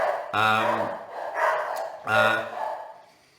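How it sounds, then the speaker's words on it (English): Two loud, drawn-out barks ring out close by, with quieter yelping in between. "You hear the dogs?"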